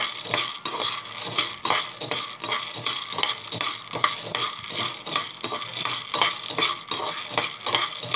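Ingredients dry-roasted and stirred in a pan, a rapid, regular scraping and clinking of a metal spoon against the pan, close and fairly loud, with a faint sizzle underneath.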